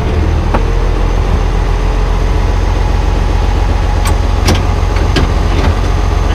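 An International Harvester 1086 tractor engine runs steadily and loudly up close, a continuous low diesel drone with a few brief clanks from gear shifting.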